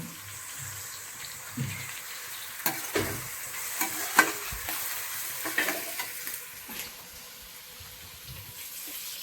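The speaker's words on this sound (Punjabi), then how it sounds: "ਇੱਧਰ ਲੱਗਦਾ ਪਿਆ ਹੁਣ ਗੋਭੀ ਨੂੰ ਤੜਕਾ" Tadka tempering for cauliflower sizzles in a pan with scattered stirring scrapes and clinks, a steady low frying hiss running quietly under them with no talk.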